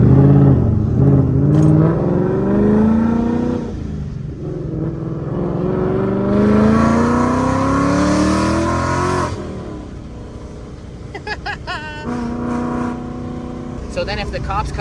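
An 800-horsepower Ford Mustang's engine roars and climbs in pitch as it accelerates, loud and close from inside the car, then drops away and settles into a lower rumble, with people talking over it.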